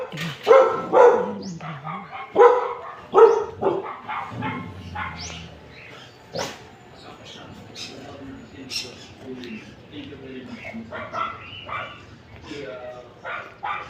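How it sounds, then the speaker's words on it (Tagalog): Several dogs bark in short bursts, some close and some farther off, with a person talking intermittently over them. "Maraming aso dito kaya ayaw ko sa igala kasi maingay."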